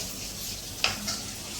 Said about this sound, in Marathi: हा बघा आता परतून घ्यायचे सगळे मसाले